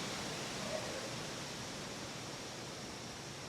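Steady wind from a hurricane far out at sea rushes over a suburban street, a constant broadband roar filling the whole clip at even loudness with no talk.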